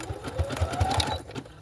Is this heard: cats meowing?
no